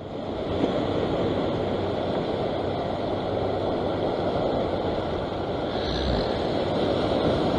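Ocean surf at Wells Beach near Sydney, Australia, heard as a steady, loud wash of waves and wind roaring continuously without a break, with a slightly stronger surge near the end.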